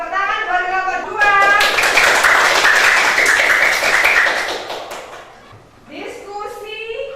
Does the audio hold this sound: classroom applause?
yes